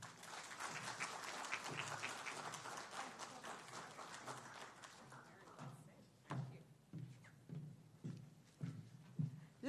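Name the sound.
audience applause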